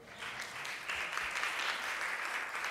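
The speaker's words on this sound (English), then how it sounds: "let's give a big round of applause to the people who so gracefully took this panel tonight" Audience applause at an Illinois Issues public forum in Peoria, a steady dense wash of clapping from a crowd filling the room, sustained at even loudness throughout.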